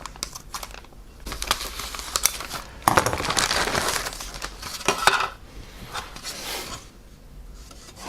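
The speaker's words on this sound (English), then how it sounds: "Get the big scissors out and cut it open." Big scissors cut open the plastic bag of an Airfix 1/72 scale TSR-2 model kit, with close crinkling, rustling plastic and snipping scrapes that swell in the middle and then fade to lighter handling.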